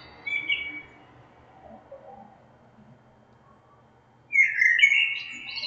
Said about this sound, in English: we just gonna listen to these birds for a minute